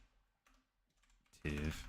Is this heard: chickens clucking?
no